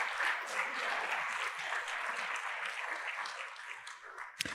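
A church congregation applauds in a dense, steady burst of clapping that holds at an even level, with a single sharp knock near the end.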